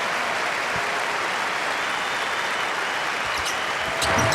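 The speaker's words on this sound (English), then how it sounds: "he's getting a very well-deserved hand from this crowd" An arena crowd at an ACC Championship college basketball game between Duke and Florida State gives a sustained ovation as a star player leaves the court, a broad, steady roar of clapping and noise from many people.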